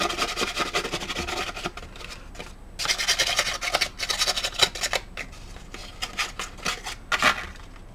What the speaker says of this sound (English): I just want this file folder to grunge up a little bit.